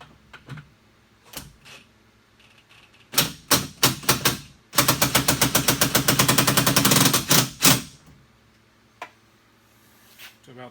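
An impact wrench tightens the door handle bolts on a Jeep Wrangler, firing short rattling bursts and one long rapid hammering run of loud clacks, with brief pauses between bursts and a final few isolated hits.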